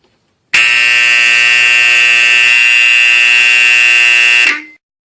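A fire alarm, pulled at the University of Toronto, blares a loud, steady electronic tone for about four seconds before cutting off abruptly, with no voices.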